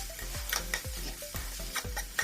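Cashews go into a hot pan with fried tomato for shahi paneer and are stirred, with a steady sizzle and regular scrapes of a spoon against the pan.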